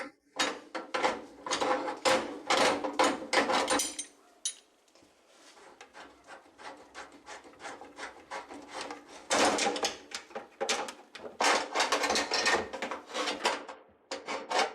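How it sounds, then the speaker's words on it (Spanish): Gas pipe fixing nut under a built-in kitchen hob being loosened with a wrench: repeated scraping, clicking metal turns in quick bursts, close and fairly loud, with a quieter pause midway before another run of ratcheting rasps. "Podemos desenroscar la tuerca de fijación del tubo de gas de esta manera."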